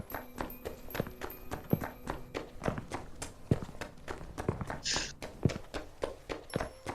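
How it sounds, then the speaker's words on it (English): Several sets of footsteps approach through echoing hallways in a dramatized story scene, a steady close run of hard, hollow steps with a clip-clop feel, fairly loud and continuous with no talking. "It's not long until all 3 footsteps can be heard."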